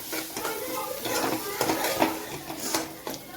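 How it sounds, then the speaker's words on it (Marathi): Onion, potato and masoor dal with turmeric and coriander powder stirred in a pan, giving close, busy scraping and clinking of a spoon on metal over a light sizzle. "त्याच्यामध्ये आपण हळदी पावडर थोडंसं धने पावडर ॲड करूया आणि मिक्स करून घेऊया"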